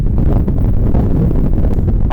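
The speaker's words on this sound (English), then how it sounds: "the wind's that bad" Strong gusts hit a microphone outdoors while fishing by the water, producing loud, constant low rumbling and buffeting that fills the whole moment, with no talking.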